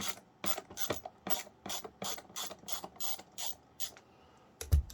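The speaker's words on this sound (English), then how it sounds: "get yourself a Phillips head screwdriver, just a pretty basic one, nothing too major. And we're just going to simply remove this screw." A Phillips screwdriver turns a screw out of a Bissell PowerForce Turbo vacuum, giving a close, steady series of about a dozen evenly spaced ratcheting clicks that end in a louder final clunk.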